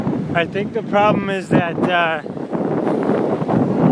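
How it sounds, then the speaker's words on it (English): Strong seaside wind buffets the microphone with steady low roaring gusts while a person talks over it. "it's too windy and"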